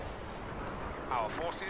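Gunfire in a Star Wars Battlefront match, a dense rumble of blaster shots and battle noise filling the clip with a brief louder burst near the end.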